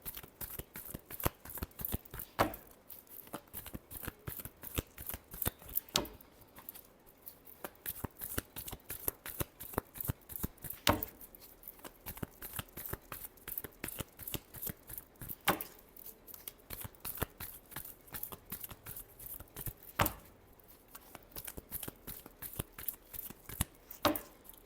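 Tarot cards shuffled by hand, with a long run of crisp, rapid riffling and snapping bursts in an uneven rhythm, close and clear with no voice.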